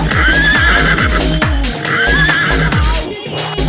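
A horse neighs loudly and close by in two long whinnies, over rhythmic hoof clip-clop on a mountain outing in the Alps.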